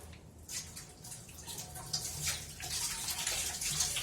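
Tap water runs softly while a small batch of dishes is washed by hand. The stream surges and splashes unevenly, with occasional drips and clinks, and it stays fairly faint throughout.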